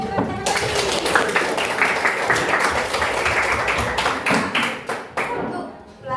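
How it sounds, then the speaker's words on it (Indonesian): A class of students applauding together, a dense steady patter of many hands clapping for several seconds, fading slightly toward the end. "Kita beri tepuk tangan lagi."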